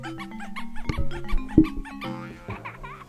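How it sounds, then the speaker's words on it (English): Nintendo GameCube startup jingle in its hidden variant, triggered by holding the Z button, with squeaky dog-toy yaps replacing the normal chimes over bright synth tones and low hits, playing loud and close for about three seconds. "it makes a squeaky dog sound"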